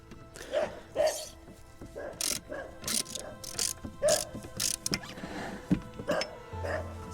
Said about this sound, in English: it doesn't seem to be doing anything. It's just sort of making a noise.